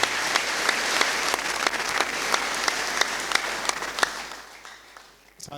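A church congregation claps together in a dense, steady round of applause that runs for several seconds, then thins and fades away at the end.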